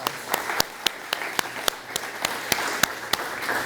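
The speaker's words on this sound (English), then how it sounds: "I want you to give each other applause." Scattered claps at a local township event, sharp individual hits over a steady hiss, thin and irregular rather than a full crowd ovation.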